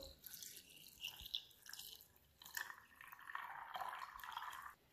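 Water pours and splashes into a small pot of almonds in uneven bursts, close and fairly quiet, with no one speaking.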